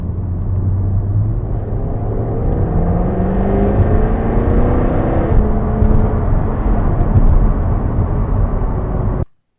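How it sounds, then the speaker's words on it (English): A loud, steady Jaguar F-Type V8 exhaust, with its exhaust valves open, drones and rumbles continuously, rising slightly in pitch before cutting off abruptly at the end. "So now we've got the exhaust valves open."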